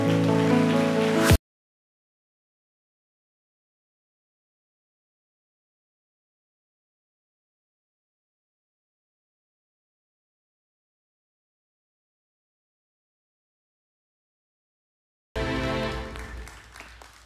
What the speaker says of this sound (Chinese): 所以我们一起拍手欢迎协聪牧师